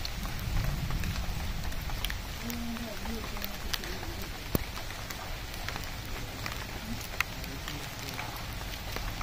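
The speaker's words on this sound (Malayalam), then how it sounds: "അധികം വണ്ടിയുടെ ഒച്ചപ്പാടുകളൊന്നുമില്ലാതെ കുറച്ചു നേരം അങ്ങനെ മഴ ആസ്വദിച്ച് നിന്നു" Rain falls steadily on a pineapple plantation near Kochi, an even hiss of drops with a few sharp louder hits, while a voice speaks briefly early on.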